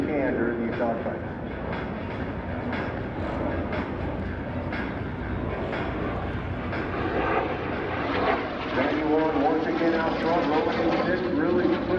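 Military aircraft in an airshow dogfight demonstration, a loud continuous engine roar and rumble that holds steady and swells slightly, with a commentator talking over it.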